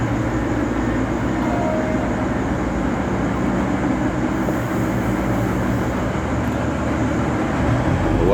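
A country passenger train runs at Morwell, Victoria, Australia, with a steady loud rumble and wheel roar on the rails, continuous and fairly close, with no talking.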